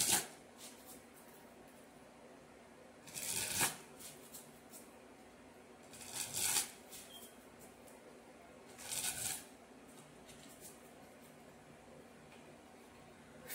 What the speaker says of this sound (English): I've kind of already started shuffling